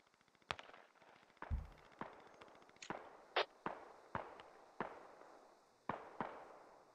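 Distant exchanges of rifle fire in the military shooter Squad: about a dozen sharp, separate cracks at uneven intervals, each with a short echoing tail, over a quiet background.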